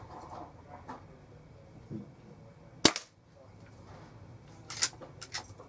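Single air rifle shot from a Weihrauch HW97 or SMK CP2, a sharp, close crack standing out amid quiet background with faint rustles and a couple of softer clicks afterward.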